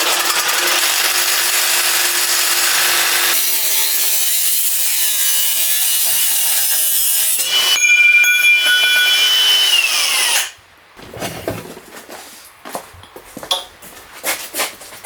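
A power saw cuts through a metal part of an Audi car in a loud, continuous high-pitched whine that shifts tone partway through, then stops abruptly, leaving scattered clanks and handling noises.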